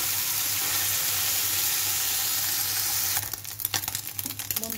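Small fish sizzling in a pan, a constant close hiss for the first few seconds before it breaks into scattered clatter and watery splashes near the end.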